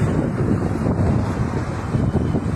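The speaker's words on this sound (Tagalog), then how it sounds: "Mahangin ngayon." Steady wind buffets the microphone with a constant low rumble and gusty roar throughout, loud and unbroken.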